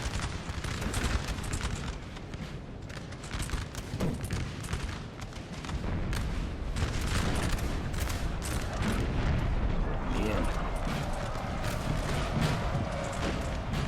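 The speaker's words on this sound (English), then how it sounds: "This artillery is getting some really good shots from that angle" Artillery fire and musket volleys in a Napoleonic-era battle of Aspern-Essling in Napoleon: Total War, a dense, continuous barrage of sharp booms and crackling fire with a steady low rumble.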